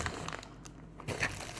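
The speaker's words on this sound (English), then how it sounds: "now I'm sorry for the crinkling, I just need to open it" Plastic packaging of a stamped cross stitch kit crinkles as it is torn open, with soft, close, irregular rustling bursts and a louder crackle near the end.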